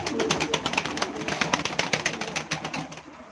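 Pigeons coo and flutter close by at a live pigeon auction for game birds, with rapid repeated throaty coos and wing rustle overlapping throughout.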